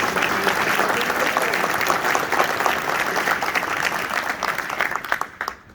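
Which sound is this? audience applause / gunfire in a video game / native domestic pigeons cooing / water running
audience applause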